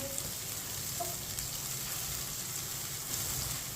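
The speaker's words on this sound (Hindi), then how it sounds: "प्याज को हल्का सा ब्राउन कर लेंगे।" Chopped onions with whole cumin and coriander seeds fry in a pan over medium heat, sending up a dense, continuous sizzle with scattered crackles, close and steady, and nobody speaks.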